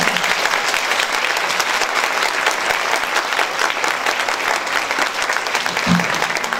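Dense, sustained applause from a concert audience at a Turkish music ensemble performance fills the whole stretch, loud and even as soloists are welcomed onto the stage, with no voices standing out.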